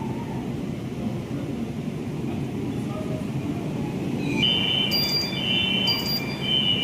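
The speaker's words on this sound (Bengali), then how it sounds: "এই ট্রেন স্টার্ট করলো আবার" A metro train pulls away from Thakurpukur station at night, with a steady low rolling rumble throughout and rising electric whine tones joining near the end.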